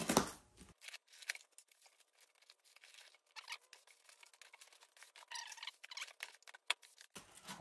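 Cardboard box holding Leadshine AC servo motors being opened, with a run of scraping, tearing and rustling packaging sounds, close and moderately loud, in irregular bursts for several seconds without speech.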